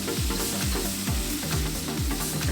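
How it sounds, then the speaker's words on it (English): Garlic and ginger stir-fried in a pan for Sichuan chili chicken: a steady, close sizzle broken by regular scraping stirring strokes about every half second, with no voices. "Stir fry for another minute."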